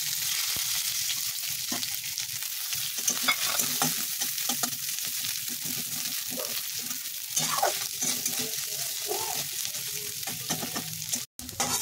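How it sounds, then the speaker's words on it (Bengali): Coconut frying in hot oil in a wok (kadai), a steady close sizzle with frequent stirring scrapes throughout, no talking. "এবার কড়াইতে তেল দিয়ে দিয়েছি, এবার নারকেলটা ভেজে নেবো আগে"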